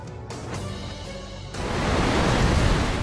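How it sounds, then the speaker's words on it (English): Large storm waves batter Chile's coastline, a loud, continuous surging roar that swells and grows heavier partway through, with no voices. "Waves as high as 7 meters pounded homes and businesses on Chile's coastline."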